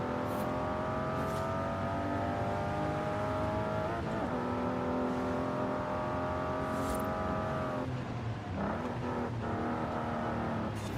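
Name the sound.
car with a 1GG engine racing, from a video game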